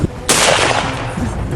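Fighters attacking a tower open fire in a sudden loud burst of gunfire that rings out and decays into echoing rumble, with no voices over it.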